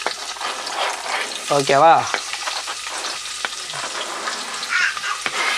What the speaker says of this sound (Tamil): இப்போ வந்து எண்ணெய் சூடானதுக்கப்புறம் வெங்காயம்.